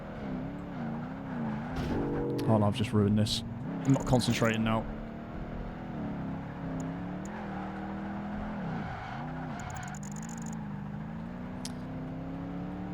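A sport utility vehicle's engine drones through turns in the Project Gotham Racing 2 video game, pitch swooping up and down with brief tire squeals, while a person talks over it.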